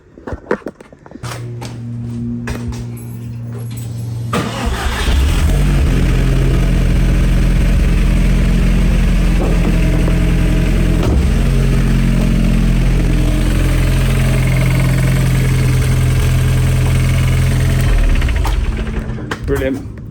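An Audi TT engine cranks and catches, then settles into a steady, loud running drone that holds for about fifteen seconds before cutting off; a voice speaks briefly at the start.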